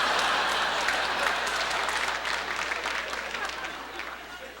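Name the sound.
comedy audience applause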